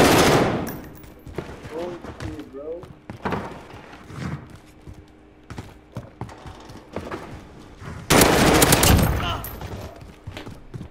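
Machine gun fire in Call of Duty: Modern Warfare comes in loud, sharp bursts, an opening volley, scattered shots, then a long heavy burst near the end, with game noise between.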